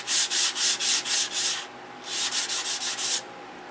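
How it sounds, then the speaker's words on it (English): Rhythmic back-and-forth strokes of 320 grit sandpaper cleaning up the edges of a plastic part, two bursts of quick, even scratchy rubs separated by a brief pause, close and loud. "So now I'm cleaning up the edges with some sandpaper."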